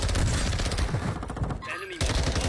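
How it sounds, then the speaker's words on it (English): Dense enemy gunfire in a military shooter game, bursts of rapid shots and automatic fire crackling close and loud, nearly continuous, with a brief lull before it resumes. "Taking effective fire."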